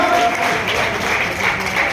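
A hall audience claps to welcome a visiting minister at a community gathering, a dense, steady wash of applause holding level for about two seconds, with faint voices mixed underneath.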